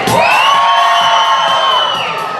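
A crowd of children cheers and shrieks loudly for the red team at a dog competition at Kentucky Kingdom in Louisville, one sustained, close roar of high voices that slowly fades.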